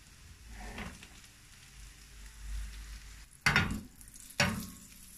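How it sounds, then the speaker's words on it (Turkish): Cauliflower in flour batter frying slowly over medium heat in a pan, a soft, low sizzle with two sharper crackling bursts near the end. "Şimdi orta ateşte yavaş yavaş kızartalım."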